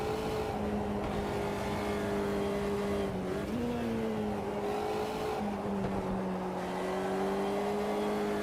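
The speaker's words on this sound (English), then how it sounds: "Car still going down the back straight there." A race car in the Automobilista 2 video game holds a steady high engine drone down a straight, the pitch dipping briefly with a shift before climbing again, loud and continuous.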